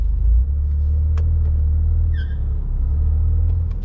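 A 2025 Toyota GR Corolla rally hot hatch cruises through Miami, its engine and road noise forming a loud, steady low rumble close by, with a couple of faint higher chirps and no talk.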